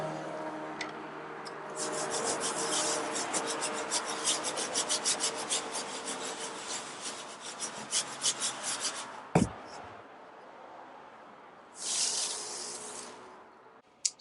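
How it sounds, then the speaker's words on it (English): A sifting bucket of gritty potting mix is shaken by hand, giving a loud, steady rasping rattle of grit against mesh for about nine seconds, then a thump and a short second burst of shaking near the end. "I can start using this one instead if I get tired of shaking this bucket around."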